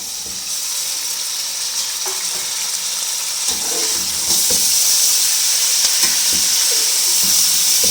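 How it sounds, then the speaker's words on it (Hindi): Chicken frying in a pan with ginger and garlic for biryani, a loud, continuous sizzle close by with occasional stirring scrapes and clinks. The sizzle swells louder partway through. "चिकन को हमने अच्छी तरह फ्राई करना है इसमें ना"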